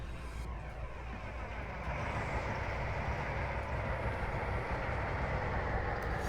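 An Alco diesel locomotive in a train simulator game gives a steady, continuous engine rumble and drone, loud and unbroken, with the level lifting slightly partway through.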